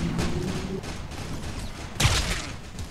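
An automated turret fires in the video game Loadout, a rough burst of gunfire sound with a louder crack near the end, set in busy game noise.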